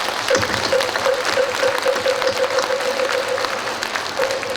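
Audience applause at a Buddhist ceremony honoring a newly installed senior monk, a steady, dense wash of clapping from a large crowd that carries on without pause, with a faint sustained tone running beneath it.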